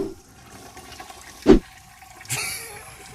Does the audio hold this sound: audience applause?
no